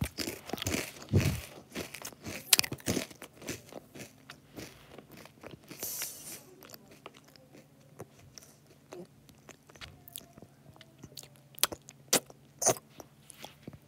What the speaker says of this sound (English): listen to the sound of my crunching